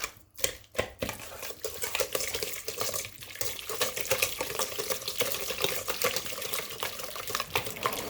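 Cranberry relish is whisked with orange juice and Triple Sec in a bowl, giving a rapid, continuous wet swishing and sloshing that starts with a few sharp strokes and then settles into steady churning, close and moderately loud.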